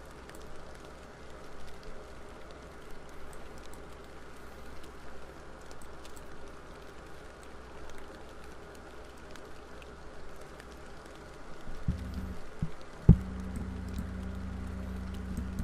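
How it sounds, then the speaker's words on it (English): Steady rain falls in a fishing video game set on a river, a soft even hiss throughout, with a low hum and a brief thump near the end. "Well, the rain abruptly stopped."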